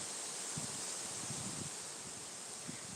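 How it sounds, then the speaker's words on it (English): Strong night wind rustles through tree leaves, a quiet, continuous airy hiss with soft fluttering bursts. "You guys hear that? That's how windy it is right now."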